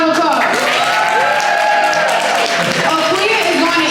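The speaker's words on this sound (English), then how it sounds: "Everyone give a round of applause" An audience at a live podcast event claps and cheers continuously, loud and close, with voices and whoops rising over the steady applause.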